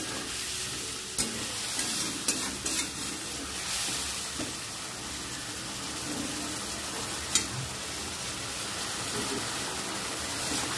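Spices for rohu fish curry sizzle steadily as they are stir-fried in a pan over raised gas heat, with occasional scraping stirs and clinks, moderately close and continuous.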